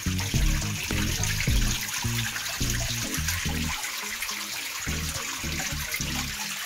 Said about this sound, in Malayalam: ഇതാണ് തുരങ്കത്തിൽ നിന്ന് വെള്ളം വരുന്ന സ്ഥലം.